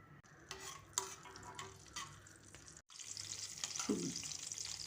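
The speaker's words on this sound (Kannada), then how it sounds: "ತುಪ್ಪದಲ್ಲಿ ಫ್ರೈ ಮಾಡ್ಕೋತಾ ಇದ್ದೀನಿ." Dry fruits fry in hot ghee, a soft steady sizzle with scattered crackles and light clinks and scrapes of a spoon in the pan, close but quiet, growing a little fuller toward the end.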